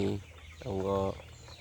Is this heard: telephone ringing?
no